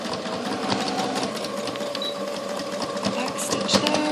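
A sewing machine runs close by, stitching and back-stitching the inside leg seam of small newborn pants, giving a steady mechanical whir with a faint rhythmic clatter throughout.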